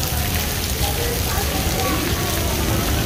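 Heavy rain pours steadily at Nagina railway station, a dense, loud hiss of drops drumming on surfaces that holds unbroken throughout, with a faint murmur of activity beneath.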